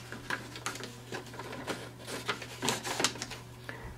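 HP Deskjet 2652 inkjet printer running a page through, with a steady motor hum and repeated clicking, whirring carriage passes at close range, no talking.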